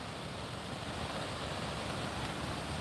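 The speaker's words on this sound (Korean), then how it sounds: "여기가 그 유명한 용추 폭포" Rushing water at Yongchu Falls, a well-known waterfall on a mountain trail, pours as a steady broadband roar, continuous and fairly faint at a distance, with no other sounds.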